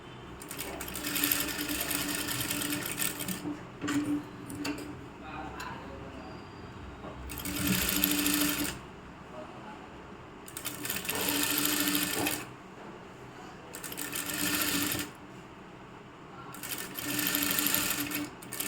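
A sewing machine stitching a churidar in bursts of fast, rattling running stitches, several runs separated by short pauses, close up, with faint talk between the runs.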